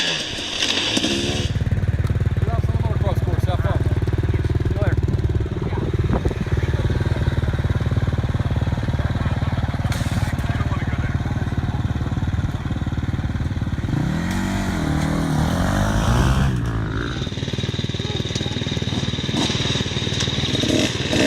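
A KTM 300 two-stroke dirt bike rides through a sand wash at a demo event in Phoenix, its buzzing engine loud and close, rising and falling with the throttle and clattering over rough ground.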